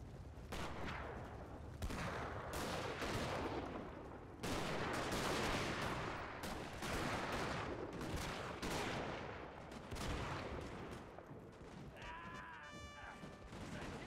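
Dense battle din from Total War: Napoleon, a siege in August 1806: continuous rumbling barrages of cannon and musket fire pile into a loud, unbroken roar. A brief bugle-like tone sounds near the end.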